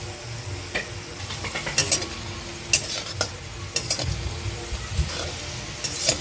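Chhena gulab jamun deep-frying in hot oil, with a soft continuous sizzle and periodic sharp scrapes and stirs of a spoon in the pan, fairly quiet and close.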